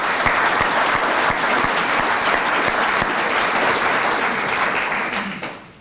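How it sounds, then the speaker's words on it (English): An audience at a chamber of commerce budget event claps for state legislators, sustained dense applause from a crowd that holds steady for several seconds before tapering off at the end. "I think we owe them a round of applause for that work."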